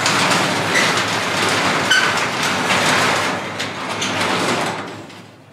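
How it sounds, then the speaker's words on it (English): A garage door is hauled open by hand in a dark garage during a power outage, giving a loud, continuous rumbling rattle that holds steady and then fades near the end. "we gotta open our garage door manually"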